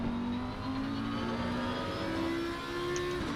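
Honda race cars roar past in a racing video game at Imola, a steady engine drone with a rising whine as they come through, moderately loud and without voices.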